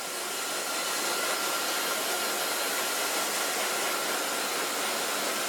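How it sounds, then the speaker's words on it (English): A hair dryer blows steadily on dyed short pixie-cut hair, a loud continuous rushing whoosh with no pauses and no voices. "Gonna blow dry this because I need this to be dry when I put the pink on."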